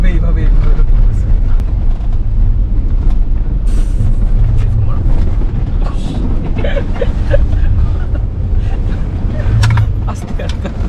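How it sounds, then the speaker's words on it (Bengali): An off-road vehicle dune bashing on a desert safari, a steady loud engine and wind rumble lasting throughout, with people talking over it. "গাড়ি কিন্তু এইভাবে এইভাবে এইভাবে ঘুরতেছে"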